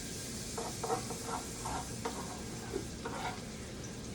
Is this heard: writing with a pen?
no